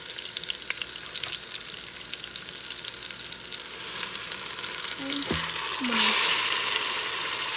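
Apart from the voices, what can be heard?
pork searing in an Instant Pot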